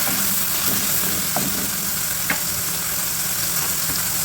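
Onion and celery sauté in a hot pan for pancit guisado, making a loud, even sizzle close by, broken by a few short clicks of stirring.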